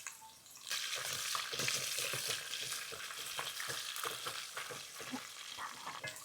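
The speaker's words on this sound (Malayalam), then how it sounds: "ഇനി നമുക്ക് പച്ചമുളക് ഇട്ട് കൊടുക്കാം." Green chillies frying in hot oil with ginger and garlic for a Kerala-style fish pickle, a dense, steady sizzle with crackling pops and occasional stirring scrapes close by, no talking.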